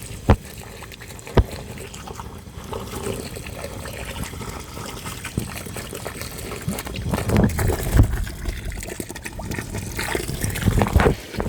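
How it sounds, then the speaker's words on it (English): A garden hose sprays water onto sand beside a house while a retractable hose reel is installed, a soft continuous hiss and splatter with a few sharp knocks and rising gushes toward the end. "nothing compacts sand better than water, so let's use the hose that's here."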